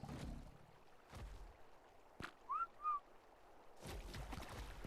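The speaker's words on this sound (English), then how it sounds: "Come on, Rock Drake. I know you hear my whistle." Two short rising whistle tones calling a Rock Drake in ARK Survival Ascended, faint and brief against quiet game ambience with a few soft thuds around them.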